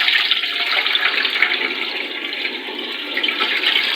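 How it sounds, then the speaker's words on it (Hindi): Water runs steadily over soaked rice being washed for biryani, a continuous close splashing rush with no pauses and no talk. "अब दूसरी तरफ मैं चावल धोने लगी हूँ, जो कि मैंने पहले से भिगो के रखे हुए थे।"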